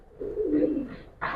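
A pigeon of the black-beaked bagha or silver breed coos once in a low, rolling call close by, followed by a brief brighter sound at the end.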